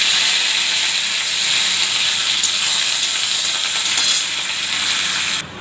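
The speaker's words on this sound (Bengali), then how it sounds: "নিম পাতাটা ভেজে নিচ্ছি।" Neem leaves fry in hot oil in a wok, giving a loud, steady sizzle and hiss that holds evenly throughout, close up, with no voices.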